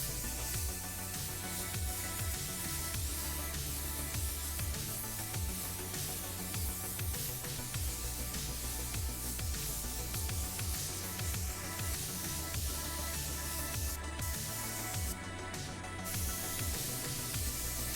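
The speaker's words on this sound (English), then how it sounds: "Just check out how even this gun sprays a clear coat." A DeVilbiss DV1 spray gun lays clear coat on a Chevy truck tailgate with a steady, even hiss of atomizing spray, fairly close, broken only by a couple of brief pauses near the end.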